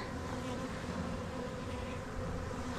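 Honey bees swarm and buzz around an open hive in a garden, a dense, continuous droning hum that stays loud and steady throughout with no voices.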